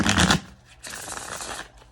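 A deck of tarot cards is shuffled by hand up close, with a quick riffling burst, a brief lull, then a longer stretch of soft papery shuffling.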